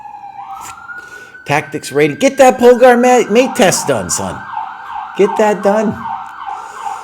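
A wailing emergency vehicle siren sweeps up and down outside an open window, loud and steady, while someone speaks over it at close range.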